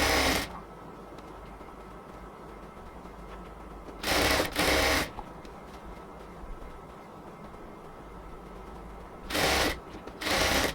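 A sewing machine stitches the elastic waistband of palazzo pants in short bursts: two quick runs, a long quiet stretch with low room hum, then two more brief whirring runs, near and clear.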